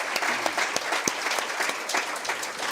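Applause from a lecture audience rises briefly after a speaker praises local ingenuity in the Kingston Harbour cleanup, with scattered claps sounding steady and moderately loud, mixed with a little room noise.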